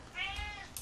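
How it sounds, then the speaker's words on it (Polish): Cat shut inside a room, giving a single short, clear meow that rises and falls, fairly close and alone. "Sorry za kota, bo jest zamknięty tutaj w pokoju."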